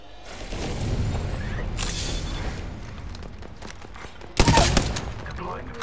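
Rapid gunfire in the battle-royale shooter Apex Legends, a dense run of shots with a loud burst near the end, mixed with game sound effects and voices in the background.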